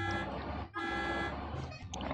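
A car horn honks repeatedly in the Sim City 4 city-building game, with sustained dense tonal blaring and brief dips, loud and close against busy street-traffic noise.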